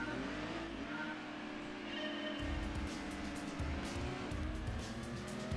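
A race car engine roars steadily in Gran Turismo 2, a Honda Beat among the cars, with revving, shifting tones and some tire squeal over continuous loud game audio.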